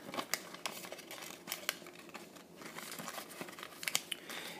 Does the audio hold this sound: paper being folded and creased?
yes